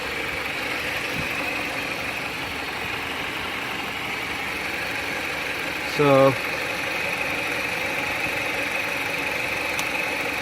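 A 2014 Jeep Patriot 2.4L engine, which has a stalling fault, idles with a steady, even hum up close, while a voice speaks briefly partway through.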